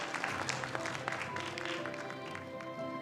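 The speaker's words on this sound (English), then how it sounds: "Can we please give her another one round of applause?" An audience applauds a professor at the end of her lecture, a dense, steady clapping from a crowd that carries on without a break at moderate level.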